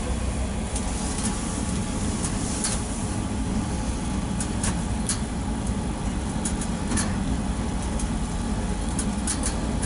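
A passenger elevator travelling at 1.6 m/s gives off a steady low rumble and hum for the whole ride, with faint ticks and clicks scattered on top and no voices.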